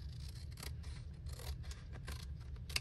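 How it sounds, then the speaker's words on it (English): Scissors cutting through a paper gift bag, a few soft snipping crunches close by over a steady low rumble of background noise, ending in a slightly sharper snip. "then I'm going to go ahead and cut this"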